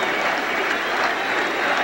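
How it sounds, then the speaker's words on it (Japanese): An arena crowd gives a standing ovation after a 1997 K-1 fight in Switzerland. The applause is broad and roaring and holds steady throughout. "スタンディングオベーションです。"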